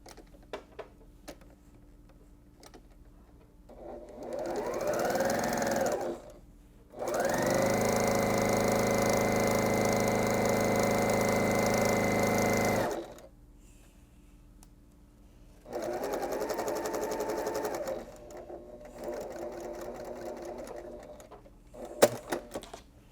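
A sewing machine stitches a quilt seam in two sustained runs of steady, even humming whir, with a brief start-up burst and quiet handling and clicks between them.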